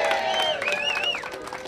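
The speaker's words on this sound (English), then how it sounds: "Little applause, come on." Light audience applause at the dedication of the first completed streetcar stop in downtown Kansas City, a brief, moderately soft patter of clapping with a faint murmur of voices mixed in.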